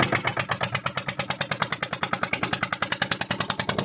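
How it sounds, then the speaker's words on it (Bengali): Motorcycle engine idling steadily with a fast, even pulsing beat, close and continuous with no voices. "এখন আমরা মেশিন স্টার্ট করব"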